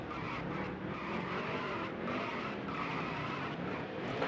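Race car skidding and spinning out in a NASCAR Dirt to Daytona video game, a steady loud engine roar with gritty tire scrub running continuously throughout.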